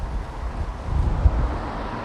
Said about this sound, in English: It's a really windy night tonight.